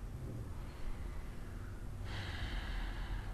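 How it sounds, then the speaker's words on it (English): Slow, deliberate breathing during pranayama yoga practice, a long airy inhale giving way to a brighter, rushing exhale, close and steady with no talking. "Inhale slowly, exhale slowly."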